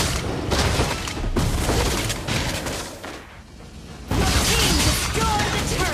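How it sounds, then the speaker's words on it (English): A turret blown up in the Mobile Legends video game, heavy booming explosions and battle noise, loud and close, dropping away briefly before another loud burst of impacts. "Your team destroyed the turret!"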